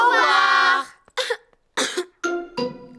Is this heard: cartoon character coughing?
yes